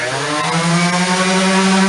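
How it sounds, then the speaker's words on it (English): An orbital sander hums steadily and loudly, its motor tone holding constant throughout with no pauses. "Even though it's an orbital sander and it's going to rotate the pad"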